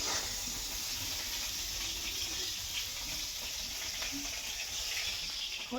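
Rice dry-frying in a pan gives off a steady, faint, even hiss with soft grainy crackle that runs unchanged throughout, with no voices.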